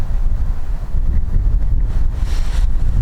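Strong wind blows across an open Finnish bog at night, a loud low roar of gusts hitting the microphone, steady with slight surges and no voices.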